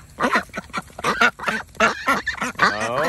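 A flock of geese being fed corn on the cob honk close by in a rapid, overlapping string of loud, nasal calls that keeps going without a pause.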